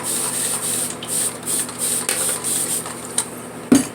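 A handheld water mister sprays during a head shave with a leaf razor, giving a string of short, close, airy hisses in quick rhythm, followed by a soft knock near the end.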